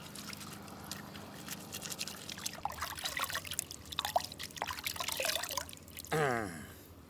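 Tamarind is squeezed by hand in water, giving continuous wet trickling, dripping and squelching sounds up close that grow busier midway, with a brief splash or pour near the end.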